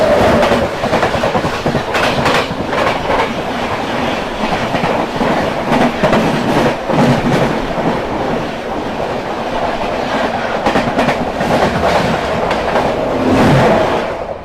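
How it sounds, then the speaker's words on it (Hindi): The Vikramshila Express, running from Anand Vihar toward Bhagalpur, rolls past close by with steady loud rumble and rhythmic clickety-clack of wheels over rail joints throughout, no voices. "सामने से आ रही है आनंद विहार से चलकर भागलपुर की ओर जाने वाली विक्रमशिला एक्सप्रेस"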